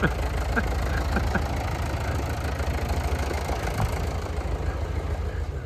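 Massey Ferguson 1250 tractor engine running as it pulls away, a steady low diesel chug with faint knocking, loud and close, with a few scattered clicks over it.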